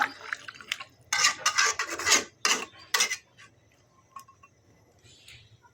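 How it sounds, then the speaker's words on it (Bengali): A spatula scrapes and rasps through cauliflower stir-fry in a pan, close and distinct, in several bursts with short pauses, followed by faint clinks and quiet kitchen noise. "এখন একটু নেড়ে চেড়ে ঢাকা দিয়ে দেব।"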